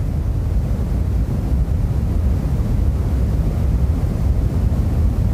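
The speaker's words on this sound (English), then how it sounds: "This is the sound of the Big Bang, but 14 billion years after it happened." Cosmic microwave background noise, the faint afterglow of the Big Bang, rendered as a steady, even hiss and low rumble that stays constant from start to finish with no talk.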